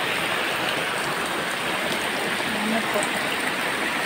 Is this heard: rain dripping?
yes